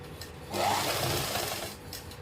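A sewing machine runs in one steady burst of about a second, stitching the sleeve of an umbrella-style dress, with quiet room tone before and after.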